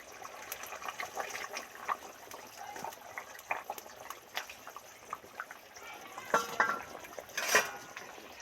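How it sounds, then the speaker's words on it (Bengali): Deep-fried okra drops into a simmering Katla fish curry gravy, giving a soft, steady bubbling with small wet splashes and clatters that grow louder near the end, close and fairly quiet. "এর মধ্যে যে ডিপ ফ্রাই করে ঢ্যাঁড়সগুলো ভেজে রেখেছিলাম সেগুলোই দিয়ে দিচ্ছি"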